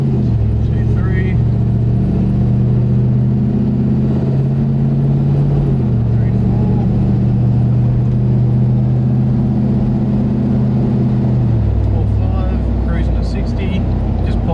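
V8 Toyota Land Cruiser 80 Series running on a dyno at steady medium throttle, a loud, sustained engine drone with stepped pitch changes as it shifts up through the gears, including into overdrive.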